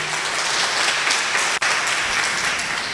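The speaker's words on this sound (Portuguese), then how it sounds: "Você pode dar uma salva de palmas ao nome do Senhor Jesus" A church congregation breaks into sustained applause in praise during a sermon, a broad, even roar of many hands clapping throughout, with one brief dip midway.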